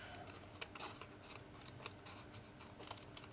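Scissors snip through paper in a quick series of short, crisp cuts, close and fairly quiet, with no talking.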